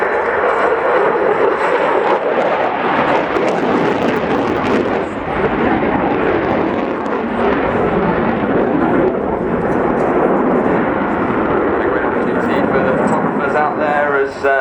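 A military aeroplane roars loudly overhead in a sustained, rumbling pass at an air show, flying a dirty pass with its landing gear down, while someone talks over the engine noise.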